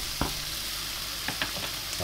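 An egg fries over easy in a pan beside steak for a sandwich, giving a continuous close sizzle with a few brief taps and pops.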